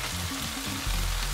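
Potatoes go into a pan of frying onions and set off a short, loud, close sizzle that swells as they land.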